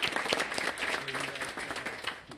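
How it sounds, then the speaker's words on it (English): Quiet, steady applause from a press-conference audience lasting a couple of seconds, with some faint crowd murmur mixed in. "So a round of applause for them, please,"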